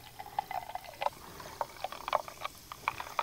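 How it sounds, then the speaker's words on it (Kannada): Soda pours into a glass over a sugar and water mix for Mangalore-style matka soda, a quiet fizzing trickle with small bubbly pops and splashes through the short pour. "ಇನ್ನು ನಾವು ಒಳ್ಳೆ ಸೋಡಾ ಹಾಕುವ."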